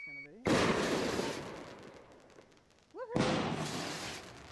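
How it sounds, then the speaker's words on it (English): Fourth of July fireworks bursting outdoors: a loud broadband boom with a long rumbling decay, then a whistling rise and a second loud crack, with faint voices underneath. "Fireworks are awesome."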